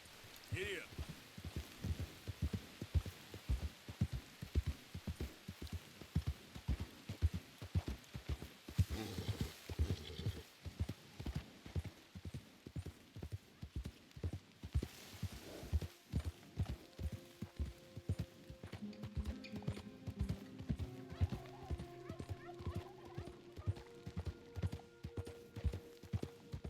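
Horse hooves clip-clopping in a video game at a brisk, steady trot, a long even run of close, rhythmic thuds, with a musical score rising faintly underneath later on.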